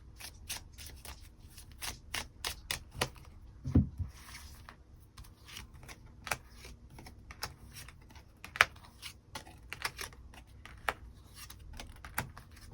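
Tarot cards are shuffled and drawn at a table, a close series of crisp flicks, taps and slaps at irregular intervals over a quiet background.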